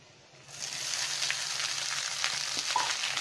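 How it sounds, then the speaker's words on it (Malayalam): Leftover rice for rice uppumavu is tipped into a hot pan and stirred, a quiet start swelling into a steady moderate sizzle with faint scraping strokes of a spoon. "നന്നായി ഇളക്കി മിക്സ് ചെയ്തെടുക്കാം."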